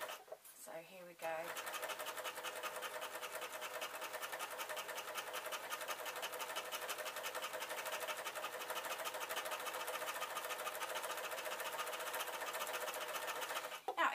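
An overlocker stitches a rolled hem on cloth for swirly skater shirts, running as a fast, steady mechanical whir for most of the clip after a brief start, then stopping.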